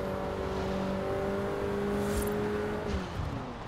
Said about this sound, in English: And we still grinded the gear.